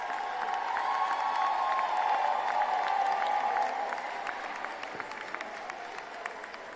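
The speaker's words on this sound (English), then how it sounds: "Graduates, let's give them a big round of applause." A large audience at a graduate commencement ceremony applauds with sustained clapping and some cheering, a dense, even wash that fades slightly toward the end, with no voices over it.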